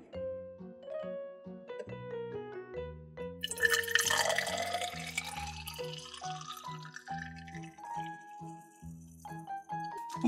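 Vinegar poured from a container into a small tube for a toy volcano science project, a brief splashing gush lasting a few seconds, partly masked by steady background music with no one speaking.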